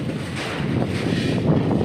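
Strong wind gusting around a house as a storm approaches, a steady broadband rush close to the microphone with slight surges, no voices.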